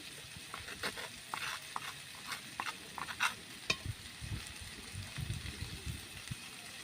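Malabar spinach stalks frying in a pan as mustard-cumin paste is stirred in, a soft continuous sizzle with scattered crackles and scraping stirs, fairly quiet and close, no talking.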